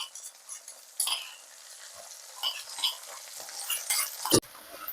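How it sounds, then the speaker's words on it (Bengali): Green peas fry in hot oil with ginger and green chilli for matar kachuri, a steady crackling sizzle with occasional louder pops and a stir or utensil clink near the end, close and without talk. "যখন মটরটা হালকা হালকা ফুটতে শুরু করবে তেলের মধ্যে, তখনই আমি দিয়ে দিচ্ছি আদা কাঁচা লঙ্কা বা থেতো করাটা।"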